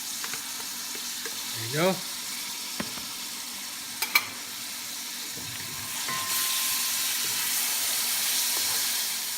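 Ginger and garlic frying in a pan while being stirred: a steady hiss that swells louder toward the end, with a few scraping taps. A voice speaks briefly early on.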